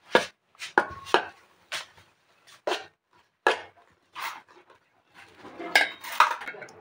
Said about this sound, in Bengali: এবারে দেব ময়দা 250 গ্রাম, দিয়ে দেবো ভালোভাবে নেড়ে নেব।